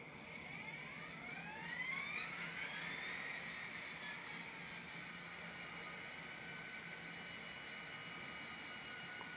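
Scale Trains SD40-2 N scale locomotive sound decoder starting up, its turbo whine rising steadily in pitch over a couple of seconds and then levelling into a steady, continuous diesel idle, fairly quiet with no voices.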